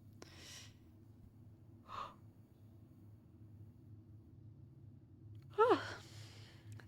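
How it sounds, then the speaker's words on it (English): A person yawns in a quiet room over a low background hum: a faint breathy exhale early on, a soft voiced sound in the middle, then a louder drawn-out yawn with a rising and falling vocal tone near the end. "Sorry. Yawning."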